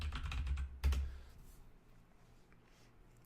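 Someone types on a computer keyboard, entering a search. A quick flurry of clicking keystrokes and one sharper tap come first, then only faint scattered clicks over a quiet room hum.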